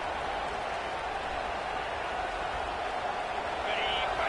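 A football stadium crowd roars in a steady, dense wash of cheering noise that stays loud throughout, with a commentator talking over it.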